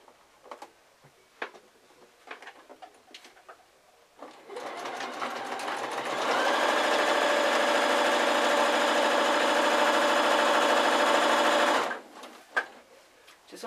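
A sewing machine stitches the lining of a Christmas drawstring sack, running in one long, steady, close whir that speeds up partway through. Light handling taps come before and after the burst of stitching.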